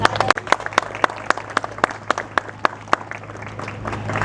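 An audience at a cattle market event in Karachi claps steadily, with sharp individual claps standing out from the broader applause and a faint voice in the background.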